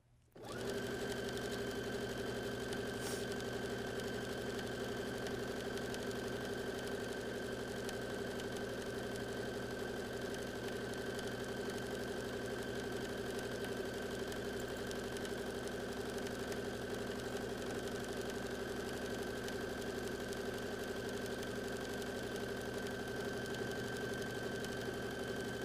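Sewing machine running steadily while stitching along the folded edge of a fabric bag strap made from quilting pre-cut squares, a continuous even mechanical hum and whir lasting the whole stretch with no talk.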